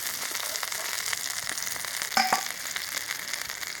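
Pai fish frying in a pan: a steady, close crackling sizzle with a brief louder burst of spatter partway through.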